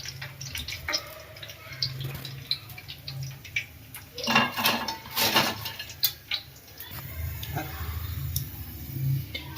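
Crispy golden fried tomato bhajiya are lifted out of a pan of hot oil and left to drain, with scattered metal clinks, taps and dripping oil over a low kitchen hum.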